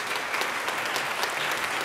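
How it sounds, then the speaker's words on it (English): Audience applause after a symposium panel discussion, a steady, dense wash of many hands clapping at moderate loudness, continuing evenly without speech. "Can we please give them a round of applause?"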